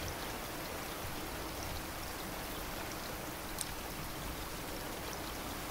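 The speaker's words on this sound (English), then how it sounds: "we're really going along with the waves" Ocean water washes around a raft in the survival game Raft, a steady, even rushing and splashing that stays constant throughout with no distinct wave breaks.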